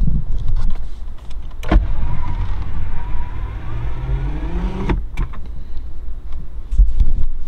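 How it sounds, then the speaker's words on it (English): Electric power windows whirring inside a 1934 Ford three-window coupe hot rod with a Jaguar V12, a motor hum rising in pitch over several seconds, framed by clicks and thumps close by, with no speech. "Power windows are right there."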